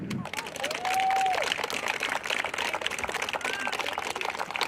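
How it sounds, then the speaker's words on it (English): Outdoor school Arbor Day crowd giving a round of applause, a steady, moderately distant patter of many hands with a few voices and a whistle-like tone over it. "give a round of applause to Mrs. Coyle Quirk"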